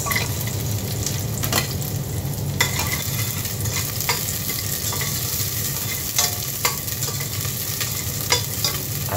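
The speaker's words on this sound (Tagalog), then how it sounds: "Lagay na natin yung ating bawang at sibuyas." Garlic and onion sizzle steadily in hot cooking oil in a pot, a dense continuous frying hiss broken by occasional sharp pops and stirring scrapes, with no talking.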